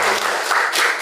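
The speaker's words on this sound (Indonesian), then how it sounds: "Baik, tepuk tangan untuk kita semua." Classroom applause from students after a lesson, a brief burst of loud, close clapping that fills the moment and does not let up.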